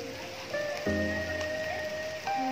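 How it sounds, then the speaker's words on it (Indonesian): Rain patters at a cemetery as a steady hiss under a sustained tonal hum that shifts pitch partway through, with no clear speech. "Hujan."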